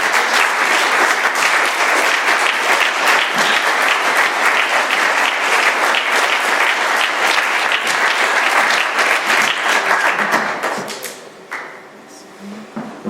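An audience applauding a speaker at an AA meeting in Doylestown, Pennsylvania, a long dense round of clapping, loud and steady for about ten seconds before fading to scattered claps.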